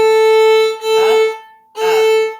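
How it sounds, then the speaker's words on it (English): Violin open string bowed in a Bach Minuet pattern: one long sustained down-bow note, then two shorter up-bow notes, steady pitch, close and fairly loud with no talking. "I'm just going to do this on an open string several times"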